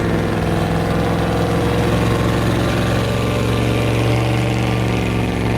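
A homemade square car's engine runs continuously at a steady, loud, low drone with a constant idle-like rumble close by and no voices.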